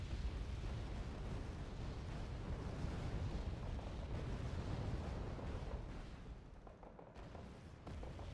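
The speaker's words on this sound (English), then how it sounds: "Some airstrike over here." Airstrike explosions in the real-time strategy game Wargame Red Dragon: a dense, continuous rumble of distant blasts and booms, fairly faint, easing slightly toward the end, with no talking.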